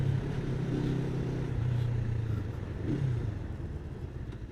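Cyclone 400i 400cc motorcycle engine running steadily with a low droning hum, wind and road noise mixed in, swelling slightly mid-ride before easing off.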